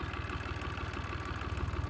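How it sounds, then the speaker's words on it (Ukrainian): A small Chinese-made tractor engine runs steadily at close range, a continuous mid-low throbbing idle with a rhythmic knock and no voices. "Трошки трошки даю трактору, тракторику прикурить."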